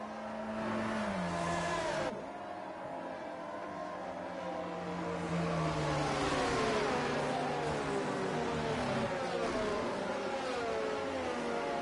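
Racing cars circulate behind a safety car in the XP2 Netherlands race: steady engine drones with slowly rising and falling pitch, one car briefly dropping away, then a fuller, louder mix of engines holding a moderate pace.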